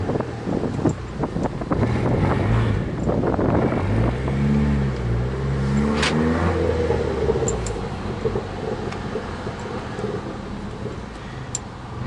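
Opel Astra Turbo cruising on the road: steady engine drone and rumble under wind noise, with a revving rise and gear shift midway before settling back.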